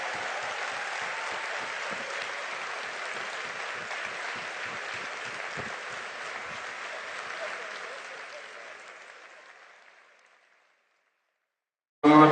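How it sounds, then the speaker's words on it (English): Audience applause for the humanoid robot Sophia at the Brain Bar event: a dense, sustained round of clapping from a large crowd that swells steadily, then tapers off and fades to silence near the end. "I would like to hear a huge round of applause and thanks for Sophia for coming to Brain Bar"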